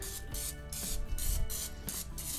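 Repeated short hisses of an aerosol cooking spray can on frozen chicken breasts, several quick bursts in a row, close and steady with a faint hum underneath.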